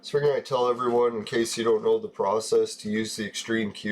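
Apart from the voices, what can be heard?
None of the usual background noises is heard.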